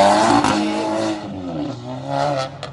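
Tuned Audi S3 8Y with a Stage 2 tune accelerating hard on a race track, loud close engine note revving up, then easing off and climbing again.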